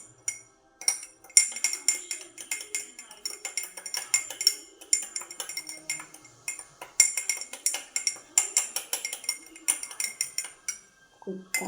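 A sharp-tipped spoon stabs and stirs through hardish food in a metal dish, giving a steady run of close clinks and scrapes that keep going without pause, with no talking.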